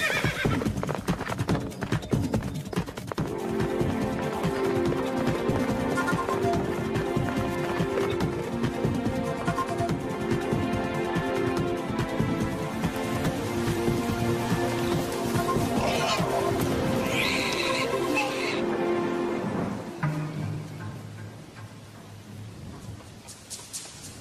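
Horses gallop and neigh in a German-dubbed cartoon, with steady clip-clop hoofbeats and loud whinnies over a music score, the hooves fading near the end.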